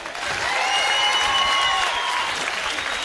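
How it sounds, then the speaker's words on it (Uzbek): Steady applause from a studio audience, dense and even, sustained at moderate loudness for a few seconds with no voices over it. "bitta qarsakinglar"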